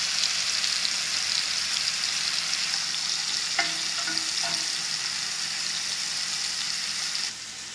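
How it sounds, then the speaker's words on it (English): Small, finely cut pieces of taco meat fry in a hot pan with a steady, dense sizzle that holds close and loud throughout, easing slightly near the end, with a few faint clinks of a utensil midway. "Because the meat has been cut so small, it will fry up very, very quickly."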